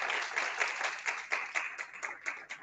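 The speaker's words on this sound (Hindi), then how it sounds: "आइए कि ये जोरदार तालियां बजाते हैं" Church congregation clapping at a Pentecostal service in Dubai, a brisk, moderately loud patter of many hands with a few sharper individual claps standing out, no voices over it.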